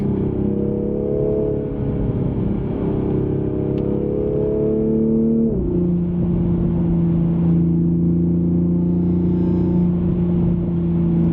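A 2020 Toyota Supra pulls hard with a loud, deep exhaust note whose pitch climbs steadily, then drops abruptly at a gear change before settling into a steady drone with no talking over it.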